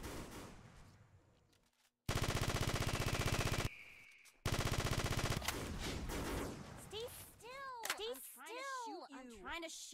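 Video game gunfire as a player fires on an enemy: two long, loud bursts of rapid automatic shots separated by a short gap, followed by chirping, sweeping effect sounds.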